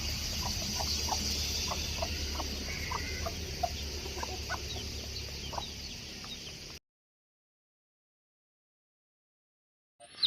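Native hens and an aging rooster cluck and call close by in a steady, busy stream, then the sound cuts to silence.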